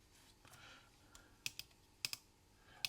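Sparse keypresses on a Nixdorf LK-3000 personal computer keyboard, a handful of faint, sharp clicks spaced irregularly over a quiet room hiss.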